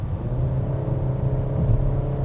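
Peugeot 5008 SUV engine in sport mode, heard from inside the cabin as a steady low droning hum with a faint rising swell, continuous and without speech.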